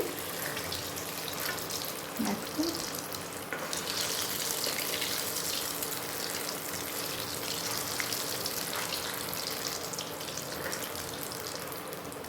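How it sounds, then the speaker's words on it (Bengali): Dhokar koftas frying in oil until lightly browned, a steady dense sizzle running unbroken throughout at close range with no talking. "একটু লাল করে ভেজে নিচ্ছি"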